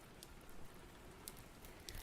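Steady soft rain ambience, a dense even hiss of falling drops with a few brighter pattering ticks, played low and continuous in the background.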